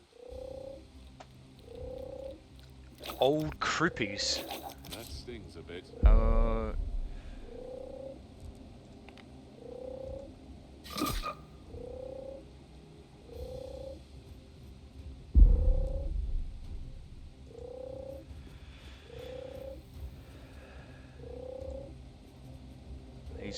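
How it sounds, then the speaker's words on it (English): A giant frog in a countryside video game area croaks in a steady series of short, evenly spaced croaks, with a few sharp game effects and someone speaking briefly over it. "Frog, giant frog."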